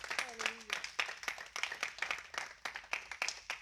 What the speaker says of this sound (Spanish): Déles ofrenda de palmas al Señor.